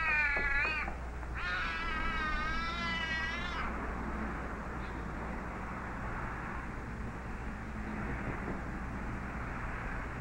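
A cat meows in a few drawn-out, wavering cries near the start over a steady low hum, then only the hum continues.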